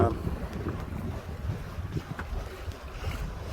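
Sailboat moving under wind at about 5.5 knots in sunshine, a steady rushing wash of water and wind buffeting the microphone, continuous and fairly loud with no distinct breaks.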